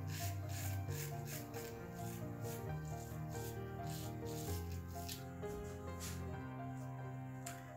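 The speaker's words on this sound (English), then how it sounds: "laying the razor flat, getting that 20 to 30 degree angle for shaving just by raising the spine width off of my face" Straight razor shaving a face with the grain, a soft, continuous raspy scraping of whiskers close up, with faint rattling and quiet background music underneath.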